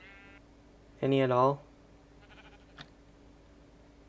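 A single sheep bleats in a town-building video game, one short wavering bleat, clear and close, with a voice speaking briefly before and after.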